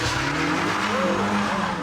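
A hot hatch set up like a race car with a roll cage launches hard from a standing start, engine roaring and tyres squealing loudly and continuously up close, with no talk.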